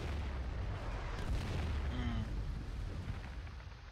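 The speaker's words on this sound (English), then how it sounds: "there's a stockade shooting this thing" A stockade fortification fires in the Foxhole war game, giving a dense, rumbling boom of artillery-like blasts that roll on and slowly fade, heavy and low with no talk over them.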